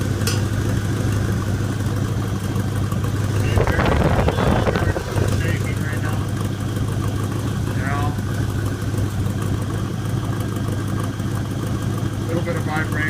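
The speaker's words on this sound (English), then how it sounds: "it's not a horrible running engine" A 1986 Oldsmobile Cutlass Supreme sedan engine idles steadily up close, a constant low mechanical rumble with a brief louder burst of noise partway through, while someone talks over it.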